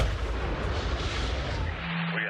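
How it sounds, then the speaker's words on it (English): Several massive explosions in rural northeastern Pennsylvania make a dense, roaring burst of blasts and rumbling that fades out abruptly, heard from a distance. "rocked by several massive explosions"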